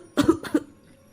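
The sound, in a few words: person coughing, sound effect in a horror story narration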